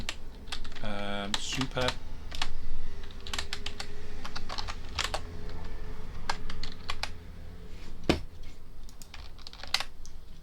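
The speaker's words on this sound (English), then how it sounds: "Okay, so I need to type in" Code is typed on a computer keyboard as a quick, irregular patter of close key clicks with a few heavier thumps, while a person talks now and then over the typing.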